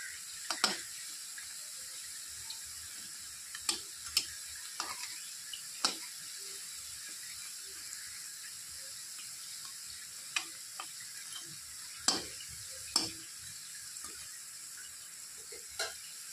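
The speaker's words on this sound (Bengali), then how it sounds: "ওইদিকে বড়া ভাজা হতে হতে এদিকটা মশলা তৈরি করে নেব।" Small lentil fritters frying in oil, giving a quiet, steady sizzle broken by occasional light clicks and taps of utensils, with no voices.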